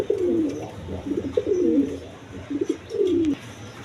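A pair of big Rajgolla pigeons coos nearby in repeated low, rolling phrases, about four clear bouts spread evenly over a few seconds, with no talking.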